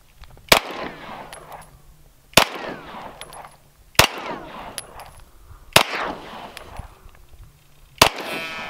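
Five FN SCAR 17 rifle shots ring out at roughly one-and-a-half-second intervals, each a sharp loud crack followed by a metallic ringing clang and rattling decay as rounds strike a helmet target outdoors.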